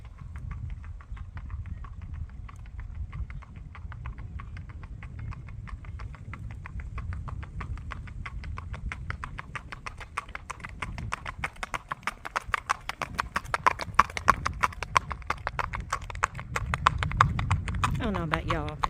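Hoofbeats of a buckskin sabino Tennessee Walking Horse gelding in Kentucky moving in its smooth gait, a steady rapid clip-clop on ground that grows louder and nearer toward the end, with music playing underneath.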